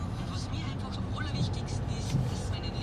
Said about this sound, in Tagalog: Traffic lang.